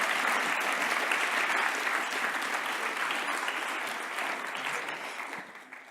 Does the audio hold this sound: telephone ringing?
no